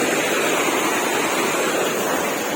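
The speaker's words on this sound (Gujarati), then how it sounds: "પાણી જોરદાર પડતું છે, જોઈ શકો છો." A forest waterfall at Dev Mogra pours down forcefully, giving a loud, steady hiss and roar of falling water with no voices.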